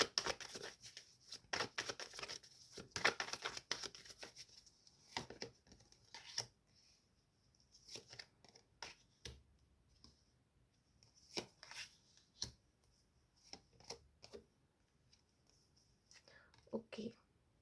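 Tarot cards are drawn from a deck and laid out for a pick-a-card reading, giving soft, irregular taps, slides and shuffling rustles close by while a voice whispers between them.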